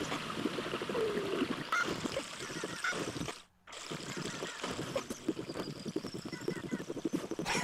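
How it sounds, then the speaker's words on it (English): Rushing water in Zelda: Ocarina of Time runs as a dense, continuous wash with honk-like squawks mixed in. It is fairly loud and stops abruptly for a brief moment midway. "That water sounds ridiculous in high speed"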